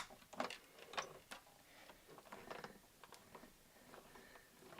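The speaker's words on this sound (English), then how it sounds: "I'm going to take my pomegranate cardstock and I'm going to die cut some threads" Die cutting machine pressing pomegranate-coloured cardstock through a thread-shaped die, heard as a few close, faint mechanical clicks and gear-like rattles in a quiet room.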